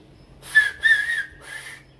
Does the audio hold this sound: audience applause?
no